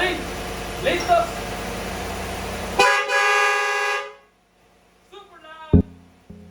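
Aftermarket train horn on a Chevy Silverado pickup: a loud, sustained blast of just over a second rises over engine rumble and voices, followed by quieter talk and a short sharp honk.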